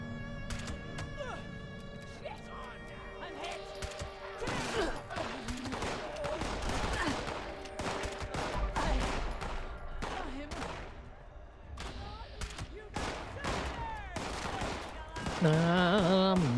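Gunfire in the Fallout 76 video game, with irregular bursts and single shots cracking across the scene at close to moderate range, mixed with other game effects and occasional voices.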